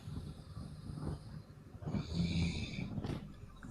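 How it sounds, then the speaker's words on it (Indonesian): Person snoring in the background during an online chat session, a few rough breathy snores at moderate loudness amid faint hiss, with no clear talk over it. "Ngorok dia."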